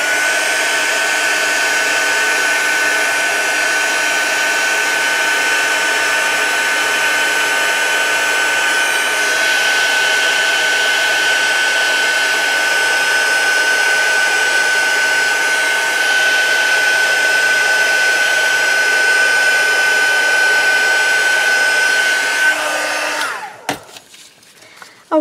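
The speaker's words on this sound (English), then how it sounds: "let's just turn on the heat gun again" A heat gun blows hot air steadily for embossing powder on junk-journal butterfly ephemera, a loud continuous whooshing roar with a steady whine that runs almost the whole time, then cuts off at the end.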